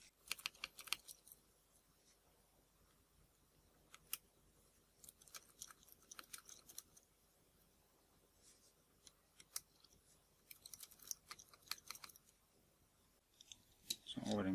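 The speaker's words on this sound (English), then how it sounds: "so we remove the 3 screws" Small screws are worked loose from a Nikon Nikkor 50mm f/1.8 Ai-s lens during a repair, giving close, sharp metallic clicks and scratchy bursts in irregular clusters separated by quiet gaps.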